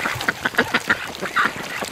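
Ducks quack repeatedly in a garden flock that includes a towering Muscovy drake, with short raspy calls coming in an uneven rhythm, close and fairly loud, and no voices over them.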